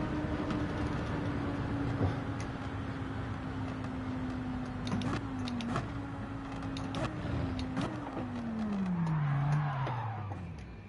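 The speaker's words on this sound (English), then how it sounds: "casually looking at the cars going by on the back straight, heavy braking into the hairpin" GT3 race cars run in Gran Turismo 7, with one engine note holding steady and then stepping down through several gear changes as it brakes hard into a hairpin. Tire and mechanical ticks sit over a constant background of other cars.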